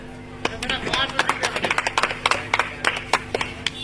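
Audience clapping at a Bangladesh Awami League political rally, irregular bursts of applause layered over a loud amplified voice, with close sharp claps scattered through the crowd noise.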